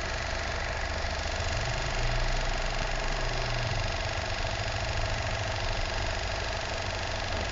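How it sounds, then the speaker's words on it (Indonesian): E-bike hub motor in the rear wheel turning slowly on just 3 volts of rotor voltage, giving a steady low mechanical whir with faint gear ticking that stays constant throughout. "Dia bisa memutar roda ebik cuma pelan."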